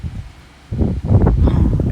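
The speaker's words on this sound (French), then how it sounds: "Regardez-moi ces rafales." Strong gusty wind on the Brittany coast during a southwest gale buffets the microphone in loud, rough low bursts that swell after a brief lull.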